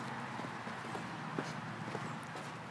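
A 20-year-old bay grade quarter horse type pony mare walks along, her hooves clip-clopping in a soft, even rhythm over steady outdoor background noise.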